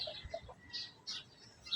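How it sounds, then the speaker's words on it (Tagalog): A chicken clucks in a handful of short, quiet calls spread across a few seconds. The bird sounds faint, with no talking. "kumikirik-kirik yung manok ko ah"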